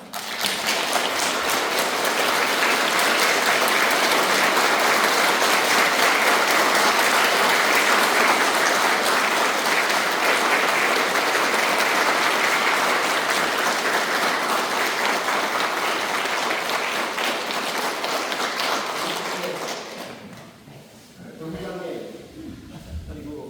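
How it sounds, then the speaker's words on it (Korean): A congregation claps warmly at a Won Buddhist farewell service at Wonnam temple, sustained loud applause rolling on for about twenty seconds before tapering off into scattered claps and room murmur. "감사의 힘찬 박수 부탁드립니다"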